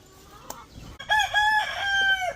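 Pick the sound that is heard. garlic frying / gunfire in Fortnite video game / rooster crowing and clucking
rooster crowing and clucking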